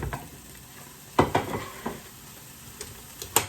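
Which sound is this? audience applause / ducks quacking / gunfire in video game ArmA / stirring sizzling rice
stirring sizzling rice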